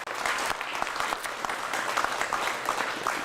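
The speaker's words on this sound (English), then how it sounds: "Let's give them a round of applause if we can" At a press conference, a small audience applauds, a brisk, fairly quiet patter of many hands clapping steadily throughout.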